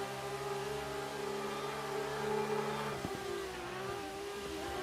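Subaru BRZ engine in Assetto Corsa drifting, a sustained mid-pitched tone with shifting harmonics and a brief dip as revs drop, steady and unbroken without any voices.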